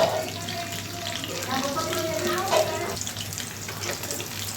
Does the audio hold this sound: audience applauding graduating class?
no